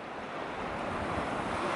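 Sea surf washing onto a shore below a cliff, with steady wind buffeting the microphone; a continuous, fairly close broadband wash with no voices.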